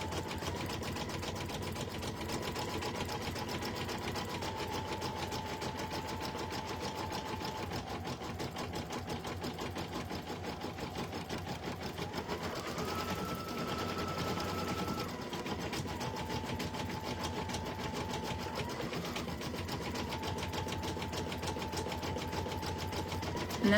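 An embroidery sewing machine stitches out a stuffed-toy design, running at slightly raised speed with a steady rapid needle chatter and a motor whine that shifts pitch partway through, with no talking.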